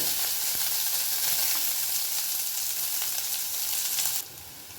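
Chopped onions frying in hot oil, a dense, close sizzle that crackles steadily, then drops suddenly to a quieter hiss near the end, with no voices.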